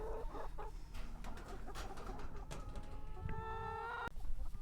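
Several pasture-raised hens cluck and murmur close by, with one rising drawn-out squawk toward the end over a low background hum.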